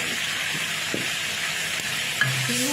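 Basil shrimp stir-fry (pad kra pao goong) sizzles steadily in a hot pan, with a bright hissing fry throughout and a few faint scrapes and clinks of stirring.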